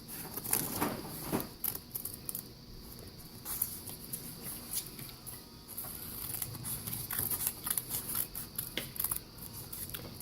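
Scissors cut slowly through paper for a weaving craft, producing repeated crisp snips and papery rustles in an uneven rhythm, close and fairly quiet.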